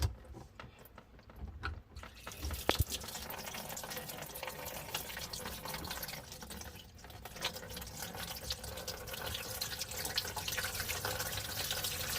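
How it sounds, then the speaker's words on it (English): Water trickles and drips from a drain into a catch pan during drain cleaning with a Bauer hand-held auto-feed drain cleaner, a faint, uneven splashing that grows a little steadier toward the end. "let the water that's sitting in there drip into this bottom pan that I have here to catch the water"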